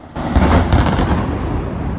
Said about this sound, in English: You can even hear an explosion.